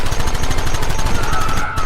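Rapid gunfire in a Red Dead Redemption shootout, a dense rattling stream of close, loud shots in a fast steady rhythm, with a voice briefly audible beneath.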